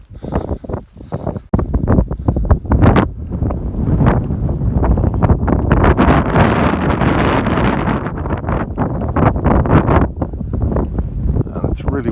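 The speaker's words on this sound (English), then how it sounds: "It's really windy." Strong gusting wind batters the microphone outdoors at night during a snowstorm in Dublin, a loud continuous roar with buffeting bursts throughout.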